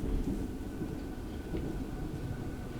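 Low rumbling of a moving train in the horror video game Choo-Choo Charles, a steady, faint mechanical drone rolling along without pause.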